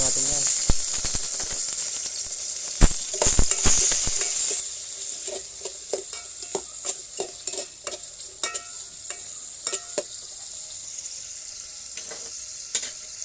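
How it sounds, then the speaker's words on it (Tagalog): Garlic, onion and tomato sauté together in a hot pan, a loud steady sizzle and hiss with quick clatters of stirring, the frying easing slightly after the first few seconds while scraping taps continue. "Isa muna tayo guys ng bawang, sibuyas, kamatis. Sabay-sabay natin yan."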